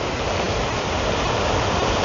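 Heavy monsoon rain pours down in a village, a dense, loud, unbroken roar of water that stays steady from start to finish without a single voice.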